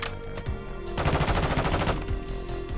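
Rapid automatic gunfire in Call of Duty Modern Warfare 2, aimed at a wall, rattles loud and close in dense bursts that run almost nonstop for about two seconds.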